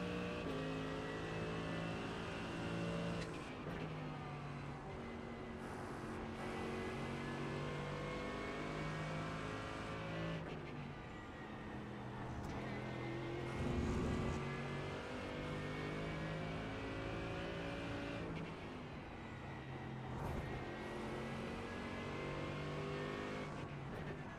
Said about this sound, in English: That McLaren's loud, isn't it?